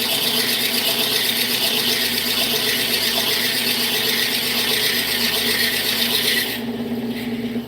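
A wood lathe turns at 500 RPM while a Forstner bit bores into the spinning workpiece, giving a steady, close, squealing and rasping drone that continues throughout and drops slightly in brightness near the end.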